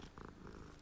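A cat being petted in the video game Hogwarts Legacy purrs softly in a brief, faint, rhythmic rumble.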